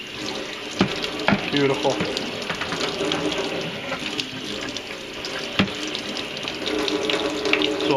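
Cold tap water runs steadily over a heated PVC bow, a loud continuous splashing gush with occasional clunks as the piece is moved, and a brief spoken word over it.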